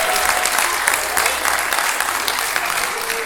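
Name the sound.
audience applause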